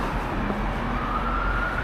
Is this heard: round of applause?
no